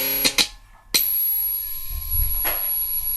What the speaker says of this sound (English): This is the sound of the FM.